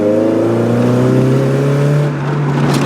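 A Mazda Miata, noted as down on power, strains flat out in second gear: a loud, steady engine drone whose pitch climbs slowly, close and continuous, with no talk.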